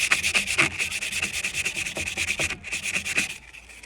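A drinking horn is sanded by hand, giving rapid, rhythmic rasping strokes close up that continue steadily and then briefly stop near the end.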